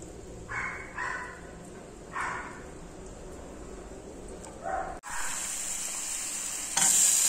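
Garlic and onion fry in hot oil, with soft bursts of sizzling at first, then a louder, steady crackling sizzle after a sudden jump in level, heard close up.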